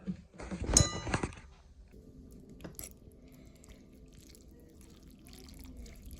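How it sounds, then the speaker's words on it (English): Tuna and noodles dropped and stirred into a soupy Mandarin-style ramen, a brief burst of wet clinks and sloshing up close at the start, then a quiet stretch with faint small clatters and drips. "Drop that in there. Stir that around."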